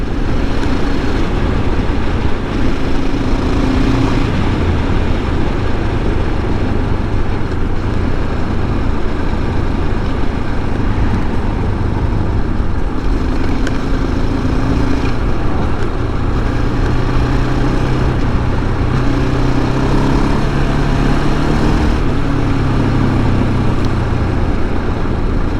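A 2007 KTM 690SM motorcycle ridden off pavement, its engine droning loudly and steadily for the whole stretch, with shifting pitch as the rider accelerates and eases off, mixed with wind and road rumble.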